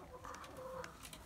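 Laying hens in a coop: a short burst of soft, faint clucking and chirpy calls, close by but low in level, with some background noise and no clear talking.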